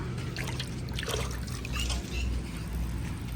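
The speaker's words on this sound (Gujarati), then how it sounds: "ગૌમૂત્ર ગાય માતા આપી રહી છે." Urine from a Kankrej cow streams steadily onto the ground in a cowshed, a continuous splashing trickle that runs close and fairly loud for a few seconds.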